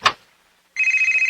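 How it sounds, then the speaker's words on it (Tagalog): A cellphone rings with a bright electronic trill of rapid pulsing beeps, loud and close, starting after a brief sharp sound and near-silence. "Cellphone ni mo."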